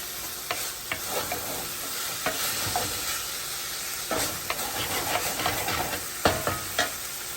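Raisins and cranberries stirred into a hot pan of frying pork chops with peppers, a steady sizzle with scattered scraping clicks and taps of a spoon against the pan, close and continuous with no talk.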